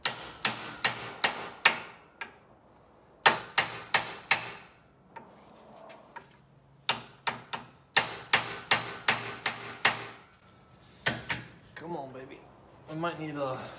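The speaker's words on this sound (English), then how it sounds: "We're gonna put it in a vise and hopefully drive that sucker out." Repeated metal hammer blows drive a pin out of a 1965 VW Beetle pedal cluster shaft clamped in a vise, sharp close strikes coming in quick bursts of four to six with pauses, and brief talk near the end.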